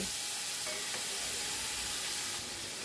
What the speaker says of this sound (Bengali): এবারে মিষ্টি কুমড়োটা দিয়ে দিচ্ছি ওই তেলের ভেতরে